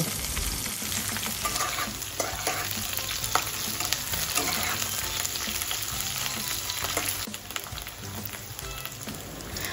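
Garlic, cubed capsicum and onion sizzle in hot oil for restaurant-style chili chicken, a loud continuous close-up frying hiss with scattered crackles and stirring scrapes, easing slightly near the end.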